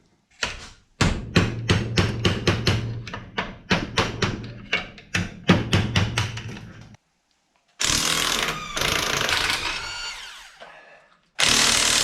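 Repeated short bursts of an impact wrench or air tool spinning lug nuts off the wheels of a Ford F-350 truck during a brake job, a rapid series of loud close rattling pulses, then longer sustained whirring runs after a pause.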